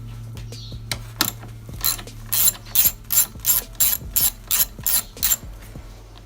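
A ratchet wrench clicks close by while loosening 8mm bolts on a BMW N54 engine, giving a run of sharp, rhythmic ratcheting bursts that come faster and louder toward the end.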